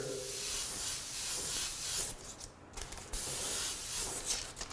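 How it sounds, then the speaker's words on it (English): An aerosol can hisses grabber orange paint through a whisk broom stencil on a candy pearl drag racing boat, in close, loud sustained bursts with a short pause between sprays. "You don't need to spray the whole thing, but do a little fade from the front like that"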